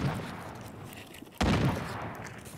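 Gunfire in the mobile shooter Call of Duty Mobile, a sharp burst of shots cutting in midway and continuing as a dense volley over noisy game ambience.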